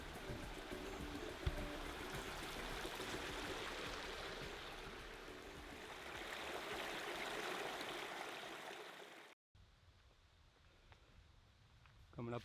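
Catlin Creek flows beside a wooded campsite as a steady, close rush of water that holds for about nine seconds, then cuts to a much quieter, thinner wash.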